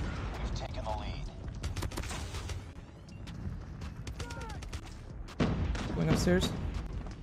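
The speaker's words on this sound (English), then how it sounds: "I shot him twice" Gunfire in Call of Duty Mobile, with bursts of close shots and sharp cracks scattered through the clip, mixed with game effects while a player talks over the action.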